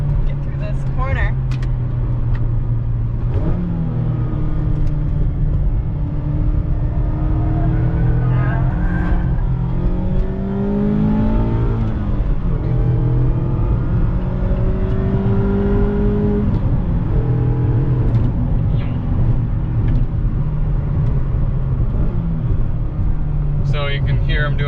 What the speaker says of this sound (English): So you can hear I'm doing a little bit of heel toe action there